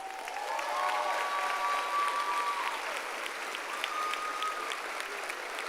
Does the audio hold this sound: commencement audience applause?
yes